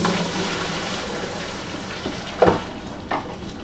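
Sanitizer liquid poured into a plastic bottling bucket gives a continuous close splashing pour, with a few louder knocks and sloshes near the end.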